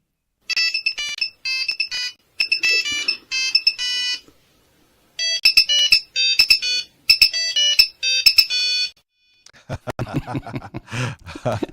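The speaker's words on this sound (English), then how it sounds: "let's hear this ringtone that was very popular on the Nokia 5110. It's called Kick." A Nokia 5110 plays its Kick ringtone, a sequence of loud, bright electronic beeping phrases in a bouncy rhythm, pausing briefly midway, then fading into low background noise at the end.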